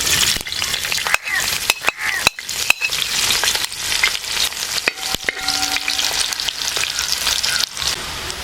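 Chopped ginger frying in hot oil in a pan for Kerala-style beef pickle, a steady loud sizzle with sharp scraping stirs and clinks of a spoon against the pan throughout, no voices.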